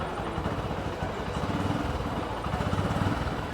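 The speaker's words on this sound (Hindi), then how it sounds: "बहुत ही साइलेंट इंजन है, बहुत ही स्मूथ" A Honda CB 125 Hornet 125cc motorcycle engine idles nearby with a smooth, quiet, even low pulsing rumble, steady throughout and without voices.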